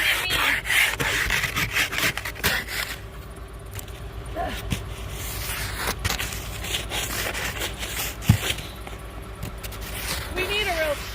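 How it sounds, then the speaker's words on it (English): A small, weak handheld ice scraper rasps and rubs across a frosted car window during a blizzard, steady close scraping strokes throughout, with people talking nearby. "That's how you scrape."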